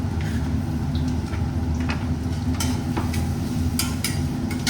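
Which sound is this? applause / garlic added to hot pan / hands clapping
garlic added to hot pan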